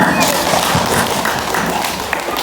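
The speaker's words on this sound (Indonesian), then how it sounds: "Tepuk tangan buat Chandra." Children in a classroom-style group at a fire station in Purwakarta clap for a boy, producing a dense, steady patter of many hands, loud and close, with voices mixed in.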